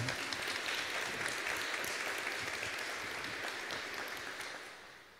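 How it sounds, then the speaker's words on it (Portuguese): A church congregation applauds in a dense, steady wash of clapping that fades gradually toward the end, fairly faint and heard without speech. "uma salva de palmas essa senhora, gente, por favor"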